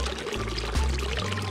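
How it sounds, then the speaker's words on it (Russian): Water rushes and pours loudly and continuously nearby, a dense splashing roar with low rumbling shifts underneath, while fishing on the Black Sea. "Шум воды — это что-то с чем-то"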